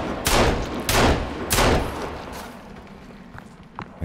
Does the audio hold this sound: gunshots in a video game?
yes